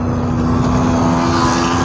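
Motorcycles speed past on a riverside mountain road near Naran in a loud, steady engine roar with a constant low hum and dense rumble throughout, close and continuous, with no voices.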